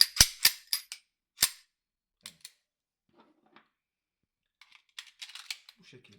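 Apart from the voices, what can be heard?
lightly tapping a Sarsılmaz P8L pistol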